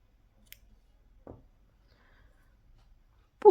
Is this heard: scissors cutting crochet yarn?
yes